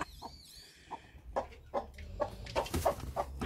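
Araucana hen and chicks clucking close by during a natural hatching, with short repeated clucks in a loose rhythm and thin high chick peeps early on.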